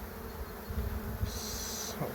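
Honey bees buzz at an open hive in a steady, fairly quiet drone, with a higher-pitched whine from a nearby bee passing through for about a second.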